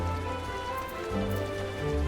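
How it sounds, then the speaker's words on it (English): Rain falls steadily in Final Fantasy XIV: A Realm Reborn, a continuous soft patter mixed with low tonal game music and no speech. "It's raining."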